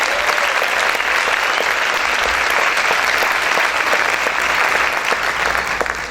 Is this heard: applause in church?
yes